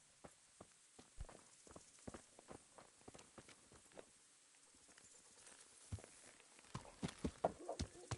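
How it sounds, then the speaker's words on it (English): Horse hooves clip-clop in the video game Kingdom Come Deliverance, a quiet, irregular series of hoof falls that grows louder and busier toward the end. "I have a horse."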